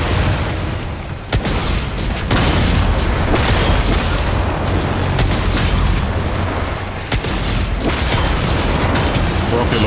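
Constant loud booming blasts and rumbling from rocket launcher fire in the video game Doom The Dark Ages, dense and continuous with a few sharper cracks punctuating the roar.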